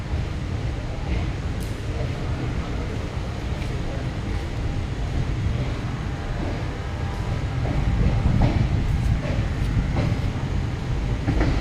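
A railway station at night as the Narmada Express 18233 moves through, with a continuous low rumble and rattle of the train that swells toward the end, and a faint hiss over it.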